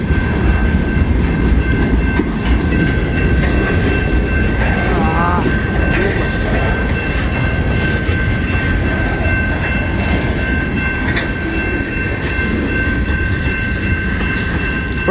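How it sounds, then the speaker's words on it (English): CN's M33 southbound freight train rolls by close in heavy rain, a loud continuous rumble of cars and wheels with a faint rising squeal of steel partway through. "Yeah, it's the M33 southbound train, I think."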